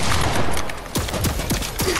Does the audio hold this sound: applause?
no